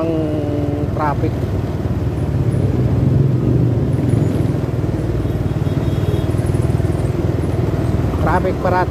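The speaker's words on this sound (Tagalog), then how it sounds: "Ang traffic." Heavy city street traffic in Calvario, near LRT1 construction, with motorcycles and cars. A dense, steady engine rumble runs throughout, with brief horn-like tones near the start and end.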